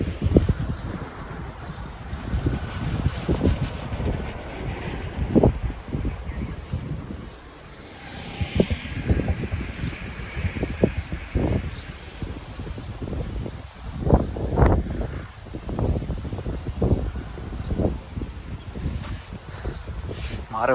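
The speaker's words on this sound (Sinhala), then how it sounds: "ඒ හුළඟ ඇඟට වදිද්දි මාර කූල්" Wind gusts buffet the microphone at a hillside temple in Nanu Oya, coming as loud, irregular rumbling bursts, with people talking intermittently throughout.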